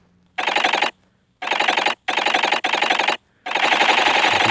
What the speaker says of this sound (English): this is what happens when it rolls around,